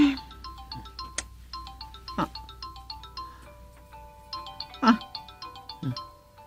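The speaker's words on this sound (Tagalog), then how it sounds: "Baka ang nanay mo ang tumatawag sa cellphone." A cellphone ringing with a repeating melodic ringtone of short tonal phrases, with brief voice-like sounds and thumps scattered over it.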